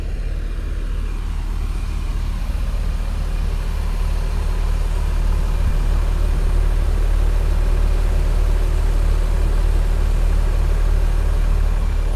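A bus engine idles steadily with a smooth, even low hum and no talking.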